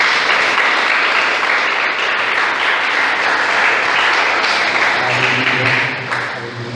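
A church congregation applauding to acclaim the Lord during a service: dense, loud, sustained clapping from many hands that fills the whole stretch and eases off slightly at the end.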